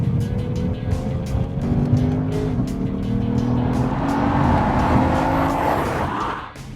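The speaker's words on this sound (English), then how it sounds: "You almost want to blip the throttle on purpose just to hear that lovely sound." A Lexus RC F engine roars with sharp throttle blips, the rising and falling revs loud and close, swelling toward a harsh peak before cutting off at the end.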